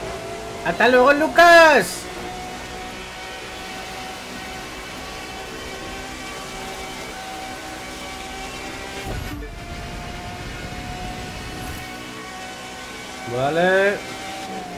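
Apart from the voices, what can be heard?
Pagani Zonda R engine roaring in video game The Crew 2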